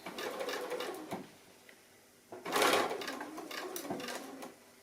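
A sewing machine stitches steadily along a fabric seam on quilted strip work, running in a continuous whirring burst, pausing briefly, then starting again close up.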